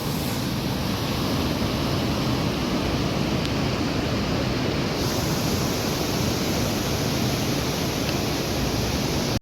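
Steady, loud rushing roar of the Periyar river in spate after heavy rain, a dense wall of flood water pouring continuously with no pauses and no voices.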